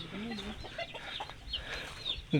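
Chickens cluck in a short series of soft calls at moderate distance, with a louder cluck near the end, over faint outdoor background noise.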